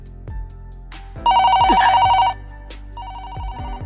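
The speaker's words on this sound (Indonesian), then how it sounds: "Karena bunyi telepon yang sangat tiba-tiba, Marin menjadi salah tingkah dengan Gojo." An old-style telephone bell rings in two loud bursts, the second shorter, over a faint rhythmic background of soft knocks.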